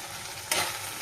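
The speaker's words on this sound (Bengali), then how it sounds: "মশলাটা ভালো করে কষিয়ে নিই।" Chana masala spices being stirred and fried in a pan on a home stove, a steady sizzle with a louder burst of frying and scraping midway and another brief flare at the end.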